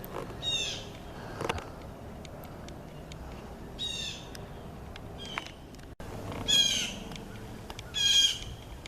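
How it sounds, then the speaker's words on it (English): A loud small bird calls outdoors in bursts of sharp, squawky chirps, first near the start and then twice more close together toward the end, over a quiet background hum. "That's a loud little fucking bird."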